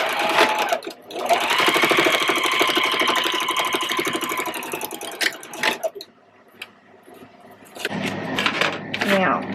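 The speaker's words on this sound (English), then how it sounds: "So just sew 1/4 inch across there." A sewing machine runs steadily while stitching a quarter-inch seam across a polar bear quilt block, a continuous mid-pitched whir lasting several seconds before stopping, followed by softer handling noises.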